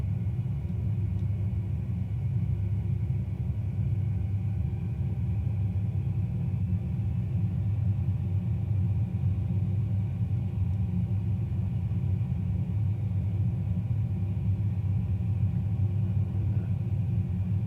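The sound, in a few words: aircraft taxiing on tarmac in a flight simulator video game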